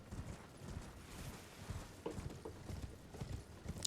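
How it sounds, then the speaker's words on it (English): A horse's hooves clatter in a quick, uneven gallop rhythm in the video game Elden Ring, a close, fairly quiet series of thuds with no talking over them. "The horse makes it a little easier."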